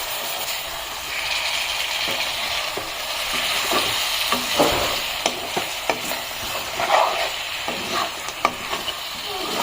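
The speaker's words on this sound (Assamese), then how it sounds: "এতিয়া মাহৰ দালিখিনিও অলপমান ভাজি ল'ম মাংসৰ লগত" Steady oily sizzling of black gram lentils frying with duck meat in a pan, with occasional clinks and scrapes of stirring throughout.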